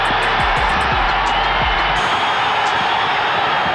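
Boxing arena crowd roaring and cheering in a loud, continuous wash of noise with thumps in the first half, no clear voices standing out.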